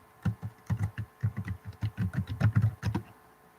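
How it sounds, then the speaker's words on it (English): Typing on a computer keyboard, a quick irregular run of close, distinct key clicks lasting a few seconds with no talking. "I'm just going to type in your word."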